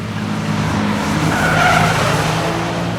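A kei car drifting on a course in Japan, its tires skidding and squealing in a loud, continuous smear over the steady drone of the engine, close by and without pause.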